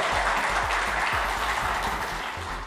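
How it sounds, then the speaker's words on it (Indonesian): A seated crowd at a motivational seminar session applauds, a continuous broad patter of clapping heard alone, fairly close and even in level. "Tepuk tangan dong Bapak Ibu sekalian"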